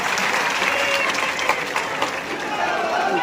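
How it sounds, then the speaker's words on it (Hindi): Rally crowd applauding steadily from start to finish, a dense wash of clapping with a few louder claps and crowd noise mixed in. "तालियों और नेहरू से इनका स्वागत"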